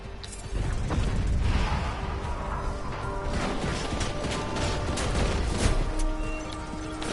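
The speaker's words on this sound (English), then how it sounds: "He tossed some grenades." Grenades go off in the Deus Ex: Mankind Divided video game, a dense, loud, sustained roar of blasts and crashing debris with sharper bursts scattered through it.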